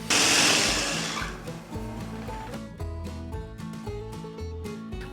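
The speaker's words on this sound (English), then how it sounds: "we're going to take about half of this corn and get it in a blender" A kitchen blender purees corn kernels for crab meat corn fritters: a loud, dense whirring roar fills the first second or so, then drops away to quieter, tonal sounds.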